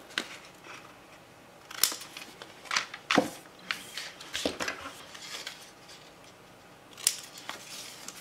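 Scissors snip through paper while making a baby album cover decoration, with a few crisp, separate cuts scattered through an otherwise quiet room.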